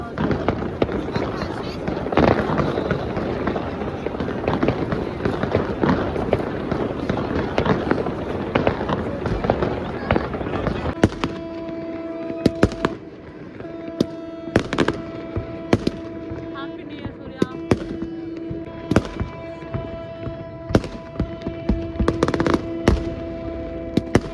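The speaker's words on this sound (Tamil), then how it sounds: "இங்கே ஃபுல்லாக சுற்றி எல்லா இடத்துலையுமே தான் ஃபயர் ஒர்க்ஸ் பண்ணுறாங்க" New Year fireworks in Norway go off all around, first as a dense rumbling barrage, then as sharp scattered bangs and crackles of varying distance, with a voice speaking in the background.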